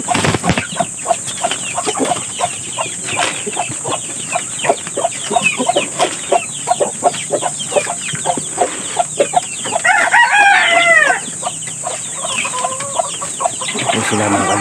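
A flock of chickens clucks nonstop nearby, and a rooster lets out a loud crow partway through before the clucking carries on.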